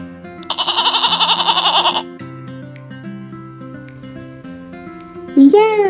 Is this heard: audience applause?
no